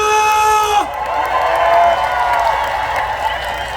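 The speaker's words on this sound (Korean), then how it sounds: "다 같이 청송사를 위해서 박수와 함성" A crowd at a live outdoor concert claps and cheers together. The applause swells loudly right after a tonal moment and holds as a dense, steady roar with whoops.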